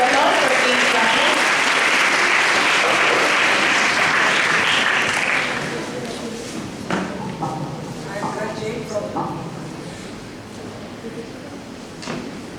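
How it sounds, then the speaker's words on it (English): Applause from an audience at an inter-school math competition, a dense sustained clapping for about six seconds that then thins out into scattered claps and light room noise. "A round of applause for Team Beta."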